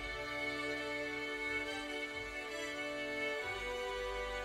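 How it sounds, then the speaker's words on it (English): A dry, unprocessed string section plays sustained, layered chords with a steady low undertone and no reverb, heard alone for a few seconds. "the dry strings sound like this."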